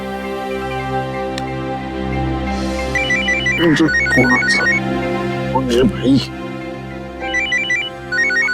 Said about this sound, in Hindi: अरे आ गया, फॉरेन का फोन आ गया।